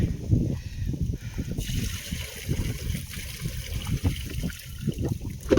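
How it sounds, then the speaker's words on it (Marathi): Water poured on a farm into a dry trough for birds, a soft steady trickle and splash lasting several seconds, faint and close, with no talking. "तर चला त्याच्यामध्ये एकदा पाणी टाकून घेऊया."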